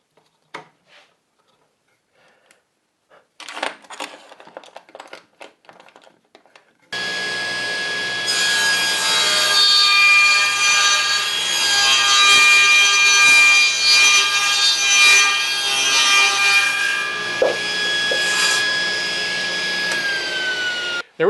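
A power saw makes a long, steady cut through wood while tapering a leg for a barbecue stand. The whine starts abruptly and runs loud and sustained to the end, after a few quiet clicks and clamp sounds.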